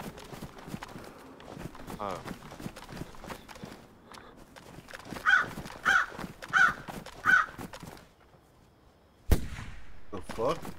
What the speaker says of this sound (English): Heard a crow?